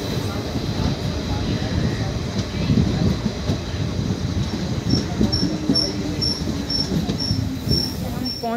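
Mathura-Jaipur passenger train pulling into Jadoli station, a loud rumble with wheel clatter and a steady rising tone, plus intermittent high beeping toward the end.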